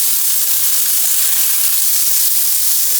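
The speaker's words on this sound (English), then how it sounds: "And you see the sizzling is more consistent" Steady, dense sizzling of marinated chicken frying in a hot pan, a constant crackling hiss with no voices.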